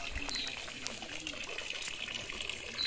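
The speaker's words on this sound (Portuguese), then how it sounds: "Essa mangueirinha aqui, ó, que eu acho que é para oxigenar a água" Water flows steadily from a small hose aerating a backyard fish pond, a continuous close gushing and trickling with a faint high hiss running throughout, no voices.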